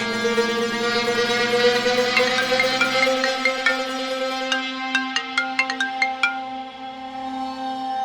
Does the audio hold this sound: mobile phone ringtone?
yes